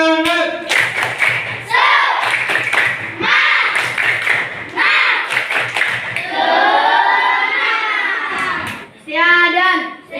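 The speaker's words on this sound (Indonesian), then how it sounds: "Sekali lagi, tepuk semangat." Schoolchildren doing a rhythmic spirit clap, a patterned series of sharp group claps in bursts alternating with loud chanting and a teacher's voice, close and lively.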